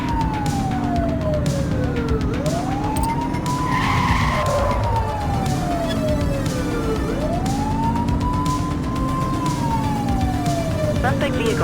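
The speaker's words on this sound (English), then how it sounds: "Looks like we're in for a police pursuit" A police car chase in the crime game The Precinct, with a wailing siren sweeping up and down under a steady roar of engines and tire noise, clear and sustained throughout.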